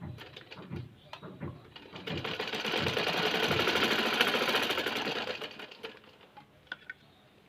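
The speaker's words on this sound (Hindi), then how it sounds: "नीचे सिलाई हमारी जहाँ बंद हो रही है वहाँ पे हमने डबल सिलाई करनी है" A sewing machine double-stitching the seam of an anarkali dress runs in a continuous close whirring burst that rises, holds for a few seconds and fades, with short start-stop bursts on either side.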